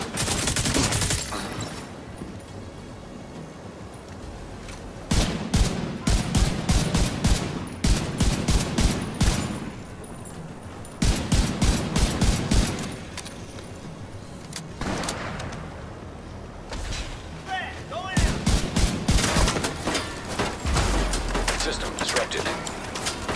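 Rapid bursts of automatic gunfire from The Division 2 shooter game, loud and close, arrive in repeated volleys of sharp cracks with brief pauses between, plus game voices and effects.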